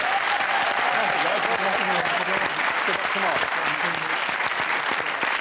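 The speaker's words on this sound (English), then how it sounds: "Applause for them, surely." Studio audience applause on a TV game show, sustained and dense throughout, with voices audible underneath the clapping.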